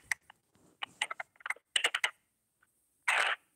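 Quiet computer keyboard typing in a small room, scattered clusters of light clicks and taps with pauses between, ending in a short louder burst of noise.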